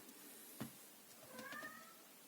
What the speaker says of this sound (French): je parle à mon chat